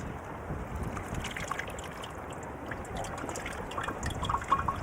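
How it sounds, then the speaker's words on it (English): Foul, gunky water poured through a sand filter into a glass gives a steady, soft trickling and dribbling that runs unbroken for several seconds, with a slightly louder splash near the end. "when I pour in this foul water with all that gunk in it, it should come out crystal clear and ready to drink"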